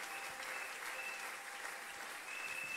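A church congregation breaks into steady, sustained applause during a sermon, a dense even wash of clapping from many hands that lasts throughout at a moderate distance.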